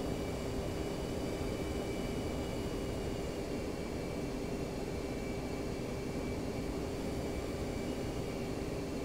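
An F-15C Eagle jet in the DCS World flight simulator taxis with a steady, loud, unbroken engine roar and whine that stays even throughout, with no voices.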